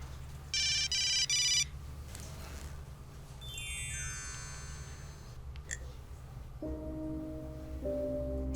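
A mobile phone sounding electronic tones: a short loud beeping ring burst, then a descending chime sweep and a later steady two-part tone, all over a low hum.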